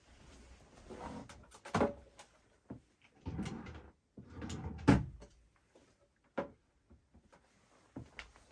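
A middle drawer of a studio desk slides open and shut in a few short knocks and scrapes spread across several seconds, close and fairly quiet, with no voices.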